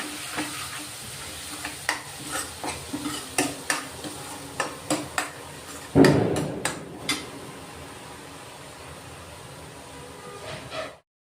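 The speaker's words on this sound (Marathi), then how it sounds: "आता तेल सुटेपर्यंत हे वाटण आहे ना आपण चांगलं परतून घेऊ" A spatula scrapes and taps repeatedly in a pan while thick ground masala paste for fish curry sizzles in oil; a louder clatter comes midway, then stirring continues more softly.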